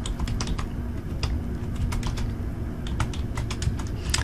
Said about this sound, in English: so I'll start typing the ordinary text